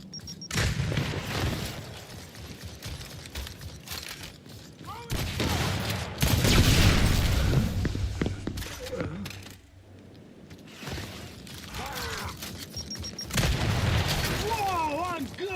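Frag grenade blast in the video game Gears 5, heavy booming bursts and crackling gunfire-like pops mixed with game effects, loud and close, with players shouting over it.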